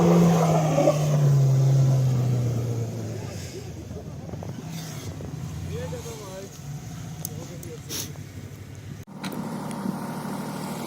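A Subaru rally car drives and skids on slippery ice in an open offroad training session. A loud engine drone falls away into a steady rumble with tire noise, and voices are heard faintly.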